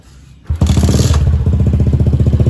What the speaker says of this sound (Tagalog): Tapos start natin yung motor.